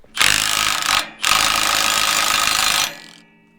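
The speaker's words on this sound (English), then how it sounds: "A little impact. Got a bit more torque on this gun, so yeah, they're really rusted on there." A pneumatic impact wrench rattles loose rusted bolts on the legs of a farm implement, two loud sustained bursts close by with a brief pause between them, then it cuts off.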